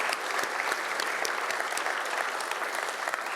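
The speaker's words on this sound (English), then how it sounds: "A round of applause to both of our panelists." A conference audience at a fisheries and ocean dialogue plenary gives panelists a continuous round of applause, dense and even from start to finish with crisp individual claps throughout.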